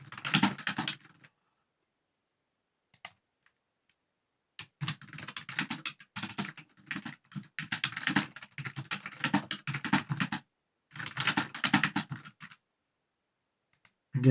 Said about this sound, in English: Again, sorry for my bad typing there.